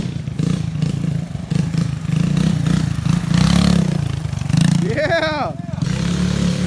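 Minibike engine revving hard during a supercross-style jump, a loud continuous buzzing drone with pitch swoops as the throttle rises and falls, while people talk and exclaim over it.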